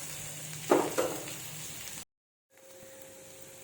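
Thin potato slices frying in a pan over a medium flame give a soft, steady sizzle, with a brief louder crackle of stirring early on before the sound cuts out to silence and returns faintly.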